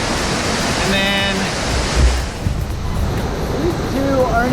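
Christie Falls and its swollen river after heavy rain, a steady broadband rush of falling and flowing water filling the scene, with a voice talking over it.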